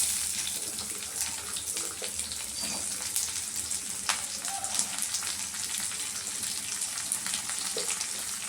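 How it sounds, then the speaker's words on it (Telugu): Onions frying for chana dal in a non-stick pan, sizzling in a steady, close hiss throughout with small crackles and no talk over it. "ఇప్పుడైతే కొంచెం ఆనియన్స్ వేస్తాం."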